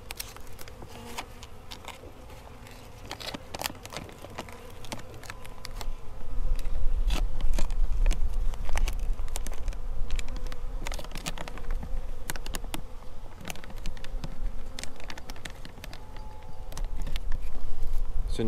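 Honey bees buzz steadily around a HiveAlive pollen patty set in the hive, a close, continuous droning hum that swells louder midway, with scattered light clicks and rustles.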